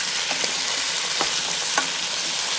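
Potatoes sizzle steadily in a hot Power XL pan for sautéed potatoes and sausage, a constant close frying hiss with a few soft stirring clicks and scrapes and no talk.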